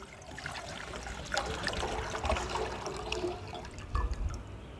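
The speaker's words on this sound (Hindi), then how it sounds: "पानी हम ये 3 गिलास पानी के ले रहे हैं, यही ऐड कर देंगे" Water splashes and trickles into a cooking pot for Kashmiri pink tea in an uneven stream, gurgling close by with a few louder splashes.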